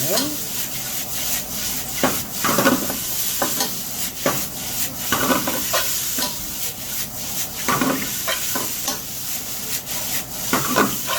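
Vegetables for japchae hiss loudly as they stir-fry over high heat, with frequent scraping and tossing strokes against the pan at a brisk, uneven rhythm.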